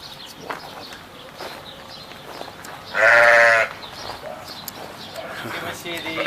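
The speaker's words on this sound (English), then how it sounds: "Let's go to see the sheep." Sheep on a farm in Israel, with one loud, clear bleat nearby at about three seconds and fainter animal calls later, over outdoor background noise.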